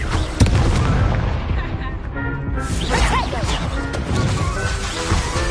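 A Confringo spell blast in the Hogwarts Legacy video game, with loud booming, crashing impacts and dense magical effects layered over a continuous game soundscape, the spell's energy swelling midway through.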